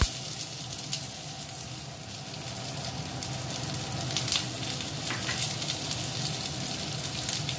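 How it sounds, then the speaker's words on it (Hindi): Two finely chopped onions fry in a pan with a continuous close sizzle that grows slightly louder, and a few faint stirring taps can be heard. No one speaks. "जो मैंने प्याज बारीक कट के रखी थी 2 प्याज वो मैं अच्छे से फ्राई कर लूंगी"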